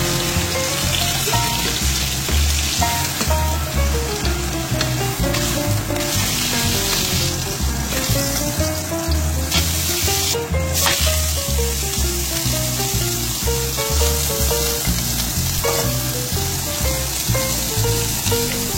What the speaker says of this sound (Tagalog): i-fry na natin. Fry natin ng side by side.